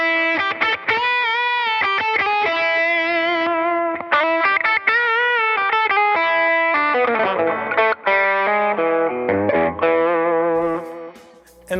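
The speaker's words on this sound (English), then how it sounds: "if I wanted to stack the OCD with it just to give it another level of gain" Overdriven electric guitar through a Tube Screamer stacked with an OCD overdrive pedal, playing a loud, sustained run of distorted notes and chords that fill the passage without talk.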